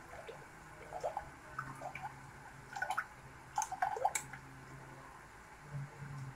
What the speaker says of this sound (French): dans une casserole, on va mettre nos 500 g de crème cuisson, la crème liquide, 500 ml